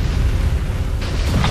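A dust devil blows up in the racing video game Harm's Way, with a deep, rumbling boom rolling continuously through the clip and a brighter burst breaking in near the end.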